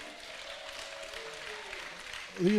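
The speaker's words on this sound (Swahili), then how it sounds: "Mheshimiwa Minority Leader, tumpigie makofi" A crowd at a Kenyan political gathering applauding the Minority Leader, a moderate, even patter of clapping heard from a distance, with a voice breaking in loudly at the very end.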